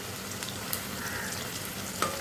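Slices of raw Nendran plantain fry in hot oil for homemade chips with a steady, close crackling sizzle and a few sharper pops, with no talking.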